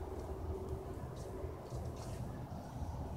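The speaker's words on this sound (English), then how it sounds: "here comes the train." A train rumbles past as a dense, low continuous roar, fairly distant and steady throughout the short stretch.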